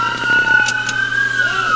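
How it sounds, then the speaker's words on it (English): A police car siren wails in a steady high tone amid engine rumble during a fatal pursuit scene, with a couple of sharp bursts and a faint sweeping warble near the end. "Turn the sirens off."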